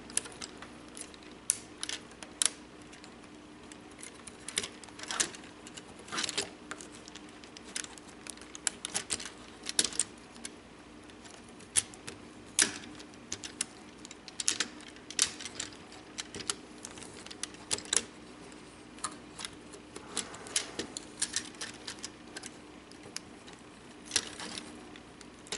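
Plastic parts of a Transformers Age of Extinction Evasion Mode Optimus Prime Voyager toy being folded, pulled and rotated, producing a scattered series of small clicks and ticks, close and fairly quiet.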